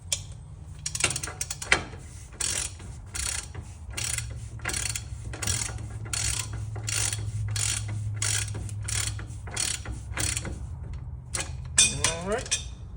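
A hand ratchet repeatedly cranks a threaded tool on a Jeep Grand Cherokee's front suspension, giving rapid, evenly spaced clicking bursts up close over a low hum, with someone talking at times.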